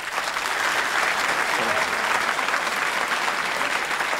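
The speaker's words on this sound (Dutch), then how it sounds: "uw applaus graag voor Mon Peters" A theatre audience applauds the entrance of the comic character Mon Peeters: thick, continuous clapping of a large crowd, loud and even for the whole stretch.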